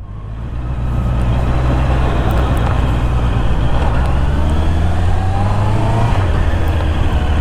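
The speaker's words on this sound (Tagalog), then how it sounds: "Lakas din ang ating stock exhaust, dahil 4-cylinder to, malakas ang ating exhaust sound." A 4-cylinder car with its stock exhaust revs loudly and close by, a steady engine drone that swells in and holds with a slight pitch shift near the end.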